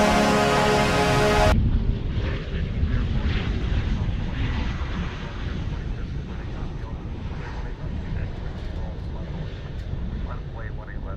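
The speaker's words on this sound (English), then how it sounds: "we're ready for takeoff here on Asiana Cargo" An Asiana Cargo plane takes off from a taxiway at DFW International Airport, a broad roaring jet rumble heard from a distance that swells and holds, with a voice talking over it.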